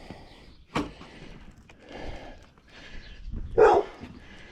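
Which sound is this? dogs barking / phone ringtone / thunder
dogs barking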